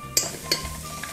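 Onions and butter in a pot are stirred with a utensil, giving two sharp scraping knocks against the pot over a soft, steady sizzle.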